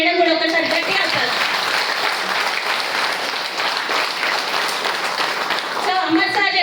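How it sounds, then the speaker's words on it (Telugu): Loud, dense applause from a seated audience at a speech event, many hands clapping continuously and close, with a few voices underneath as it fades at the end. "ఒకసారి మేడం కూడా ఒకసారి గట్టిగా అప్లాజ్."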